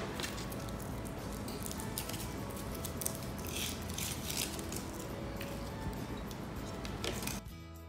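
Foil wrappers being peeled off chocolate Hershey Kisses, a quiet continuous crinkling and rustling with small ticks, close and soft, ending abruptly.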